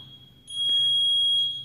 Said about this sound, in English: It'll count you down starting at 10. It'll beep.